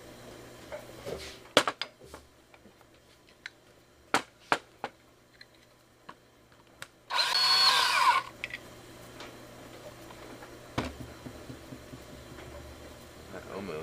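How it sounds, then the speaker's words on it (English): A power drill bores a hole through a wood block in one loud, close burst lasting about a second. Scattered knocks and handling clicks come before and after it. "we're going to start by drilling a hole in this"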